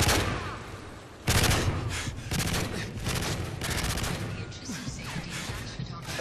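Rapid bursts of P90 submachine gun fire in Call of Duty 4: Modern Warfare 3 game action, loud and near, starting after a quieter opening and continuing in dense volleys, with a voice talking faintly under the shooting.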